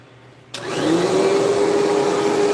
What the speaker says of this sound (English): I want to fire this thing up. Yes, it's an old vacuum